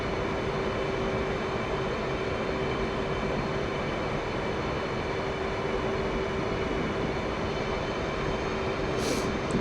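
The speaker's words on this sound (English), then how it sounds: "I'm just taxiing to the runway now, so I'll hold" A jet fighter, an F/A-18C or F-15C in the flight simulator game DCS World, taxis toward the runway. A steady, even engine roar with a faint whine holds for about ten seconds, and no one talks.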